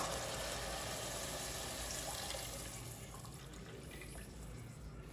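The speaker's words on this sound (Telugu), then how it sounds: "ఇప్పుడు మనం వాటర్ పోసుకుందాం" Water pours steadily into rice for a vegetable biryani, a continuous close splashing rush that fades slightly toward the end, with no talking.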